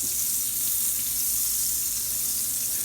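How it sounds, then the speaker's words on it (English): Butter melts in a pan of hot bacon grease, giving a steady, bright, hissing sizzle heard close up and without pause. "Look at that butter caramelizing from that bacon grease real fast."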